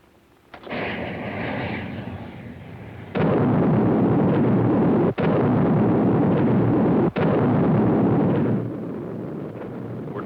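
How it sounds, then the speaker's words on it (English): A 1954 science-fiction film's missile barrage: a sustained roaring rumble of launches and explosions that swells louder and continues with brief breaks and sharp cracks, then eases off slightly near the end. "Fire again. Again and again. Nothing can stand against Trotanic missiles."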